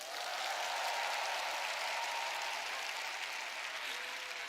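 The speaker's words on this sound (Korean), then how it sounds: "여러분 박수 좀 보내주세요." A crowd of about thirteen thousand in a convention hall applauds in a dense, steady roar of clapping that holds throughout at a constant level, with no voices over it.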